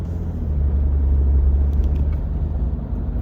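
A 2027 Mercedes S-Class V8 engine idles with a deep, steady low rumble, close by and continuous, with no talking.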